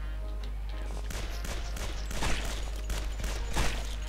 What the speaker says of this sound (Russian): Ух ты, тут все взрывается.